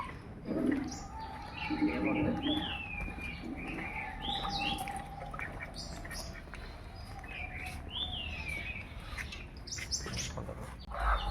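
Chicken chicks in a peanut factory give faint, high, scattered chirps over a low background murmur, soft and intermittent.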